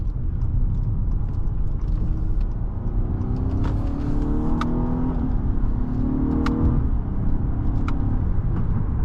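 2020 Acura RLX Sport Hybrid SH-AWD accelerating, heard from inside the cabin: a steady low drone with a faint motor whine that rises smoothly in pitch, plus occasional small clicks and no talk.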